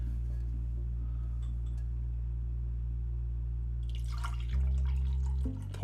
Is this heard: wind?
no